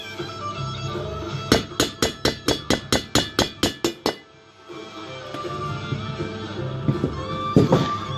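A hammer tapping a metal part of a flight simulator rudder control shaft into place in a machine shop: about a dozen evenly spaced sharp metallic strikes, close and loud, followed by steady workshop background noise.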